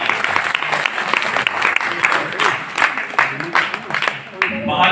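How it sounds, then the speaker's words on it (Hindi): Loud applause from the audience at an Arya Samaj Shri Ram Katha gathering. Lively, uneven clapping with some individual claps standing out and a murmur of voices underneath, rising and dipping throughout. "एक बार जोरदार तालियों से।"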